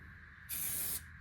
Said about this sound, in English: spray some self-etch on this stuff